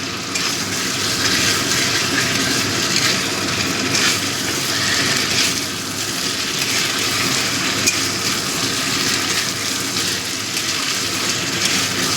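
Ginger-cumin paste fries in a pan, a steady dense sizzle with a soft crackle that holds at an even, fairly loud level for the whole stretch, with no voices over it.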